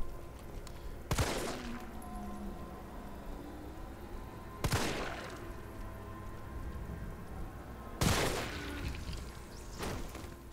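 Three sharp, loud gunshots spaced a few seconds apart in the Resident Evil 3 demo, each a crisp crack with a decaying tail over a steady low background hum.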